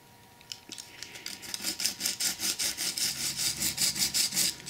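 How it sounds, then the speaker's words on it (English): A wooden edge is sanded by hand with sandpaper on a model railway signal, producing a run of rhythmic back-and-forth rasping strokes that grow steadily louder and closer. "So I think the sandpaper will take that up."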